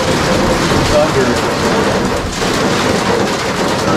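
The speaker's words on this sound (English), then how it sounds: "Incredible amount of lightning and" Heavy rain pours steadily and loudly through a thunderstorm on the road from Death Valley toward Flagstaff, with a broad roar that may hold distant thunder mixed into the downpour.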